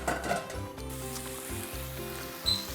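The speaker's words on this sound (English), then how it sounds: "So just gently saute this over a medium heat." Lemongrass, ginger and onion sautéing gently over medium heat in a pan, a soft steady sizzle with low background hum and a brief clink near the end.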